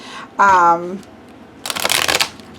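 A new, slightly sticky tarot deck with thin cardstock shuffled by hand, a brief close burst of riffling card flutter that follows a short spoken phrase.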